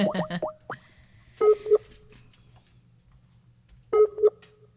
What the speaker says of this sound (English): Now we phone Milkus.